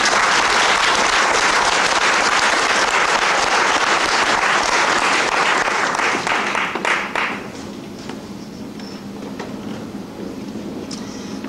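A concert audience at a gospel and Negro spiritual festival in Chartres applauds a singer, a dense, steady wash of many hands clapping that thins out after about seven seconds into scattered claps.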